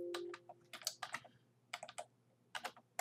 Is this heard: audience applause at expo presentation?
no